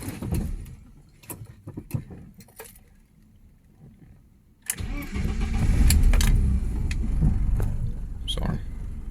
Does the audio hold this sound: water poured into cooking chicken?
no